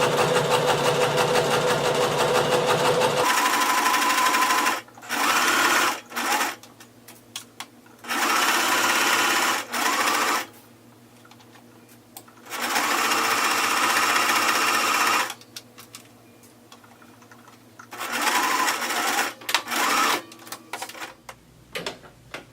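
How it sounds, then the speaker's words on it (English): A sewing machine stitches the side seams of an off-the-shoulder maxi dress in several loud, close bursts of rapid whirring, broken by short pauses. "Lowering my needle, go ahead and start sewing,"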